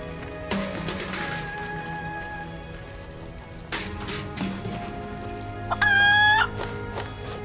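Chickens cluck and squawk in Final Fantasy VII Rebirth, with a rooster-like call and a bright rising cry near the end, heard against game music and soft background sounds.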